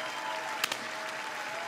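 Applause from the crowd at Darmstadt 98's promotion celebration, honouring a departing player, heard as a faint, steady patter of distant clapping with a couple of sharper claps near the middle.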